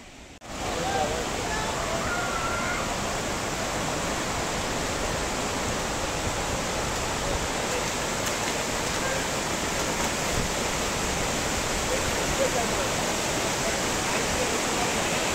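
Ab Malakh waterfall in Iran, a dense, steady roar of falling water filling the whole stretch at constant loudness, broad and hissing, with no other sounds standing out.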